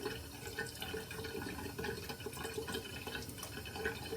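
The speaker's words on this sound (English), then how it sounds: "Okay, let's have a rinse." A flair tip razor is swished and rinsed in water, giving close, faint splashing and trickling with small drips, no voices.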